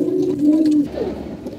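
A close, loud coo from domestic pigeons, one low throaty call lasting under a second, then a softer trailing murmur, with no talk.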